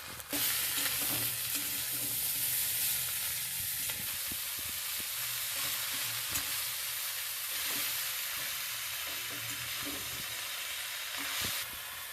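Ginger, green chilies and cumin fry in hot oil for a spinach and fish-head ghonto, giving a loud, continuous close sizzle. Occasional stirring scrapes run underneath, and no one talks.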